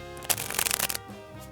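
Playing cards riffle-shuffled in a quick burst of dense crackling flutter, close and fairly loud, ending abruptly into near quiet.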